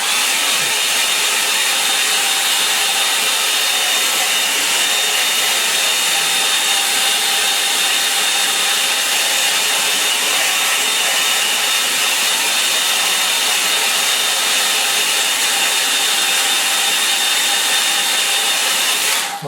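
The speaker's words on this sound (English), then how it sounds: "to help that dry, I'll use the hairdryer" Steady, loud, continuous broadband whoosh of a hair dryer blowing air over a wet watercolour painting on a board tilted at about 30 degrees, running unbroken throughout with no talking.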